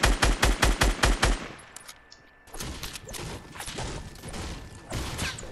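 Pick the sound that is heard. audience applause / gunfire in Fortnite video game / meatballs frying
gunfire in Fortnite video game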